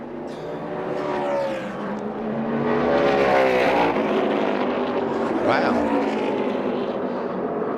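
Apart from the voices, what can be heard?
NASCAR race car engine failure at Phoenix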